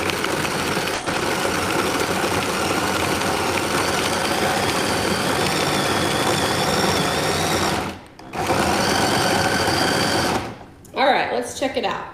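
An electric mixer whirs on high speed while blending a strawberry and white chocolate icebox cake mixture, a loud steady motor drone that cuts out briefly, resumes, then stops with some kitchen clatter.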